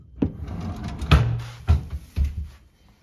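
Desk drawers slide open and shut in a furnished room, with several wooden thuds and scraping glides spaced about a second apart.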